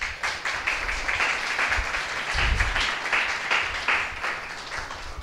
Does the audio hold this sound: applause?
yes